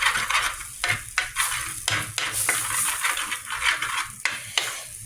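Fish masala fries in a pan while a spoon stirs it, giving a steady sizzle broken by repeated scraping strokes against the pan at a close, moderate level.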